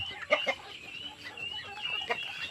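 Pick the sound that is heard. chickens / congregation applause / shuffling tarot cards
chickens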